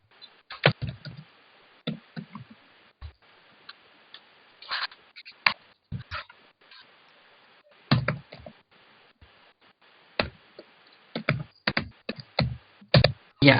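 Bursts of clicky typing on a computer keyboard, fast rattling runs of keystrokes separated by pauses, close and clear in an otherwise quiet room with no talking.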